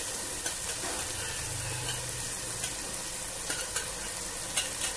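Field beans go into semolina upma in a pan, giving a soft continuous sizzle with light stirring scrapes and small taps throughout, fairly quiet and with no voices.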